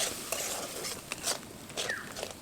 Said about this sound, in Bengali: এবার মশলাটাকে খুব ভালোভাবে কষিয়ে নেব